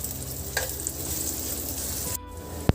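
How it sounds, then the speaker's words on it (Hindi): Raisins and charoli nuts frying gently in a pan over a low gas flame for sheer khurma, a soft continuous sizzle with a faint stir or clink partway through and a sharp tap near the end. "किशमिश और चिरौंजी, इनको भी हमें हल्का हल्का ही भूनना है"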